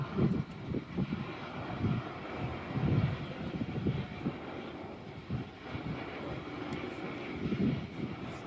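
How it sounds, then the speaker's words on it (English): Aircraft flying over a Two Bells ceremony, a low rumbling engine drone that swells and fades at a distance, with faint crowd noise beneath it. "I didn't know we arranged the flyby."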